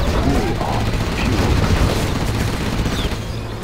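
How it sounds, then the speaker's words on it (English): A Gatling tank's cannon in C&C Zero Hour fires in a dense, continuous rattling burst amid battle noise, loud and close throughout the short stretch. "Gatling cannon is ready."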